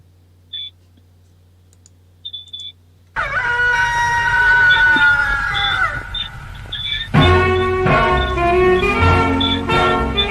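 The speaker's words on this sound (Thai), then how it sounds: "รุ่งแสงสุริยาเสียงไก่ขันมา" A rooster crows loudly and close with a drawn-out rising and falling call, then music swells in beneath it as a Thai country-style song begins, after a near-silent lead-in with a few faint clicks.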